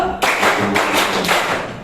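Indonesian schoolchildren in a classroom do a rhythmic group clap, three loud, sharp bursts in steady succession, close and full with many hands striking together.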